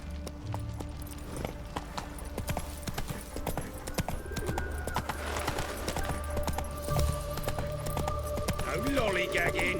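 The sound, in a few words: horse galloping in The Witcher 3 video game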